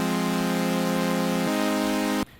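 Wide supersaw synth chord voiced with added thirds, a buzzy sustained pad held alone that changes voicing once before stopping sharply.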